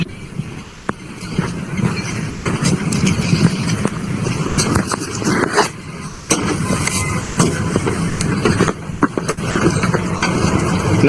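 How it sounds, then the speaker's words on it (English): A hybrid vehicle's combustion engine running after the switch from electric drive, a steady motor drone with intermittent clicks and knocks, fairly close, with no talk. "whole vehicle would transfer on the IC engine, means the IC engine start"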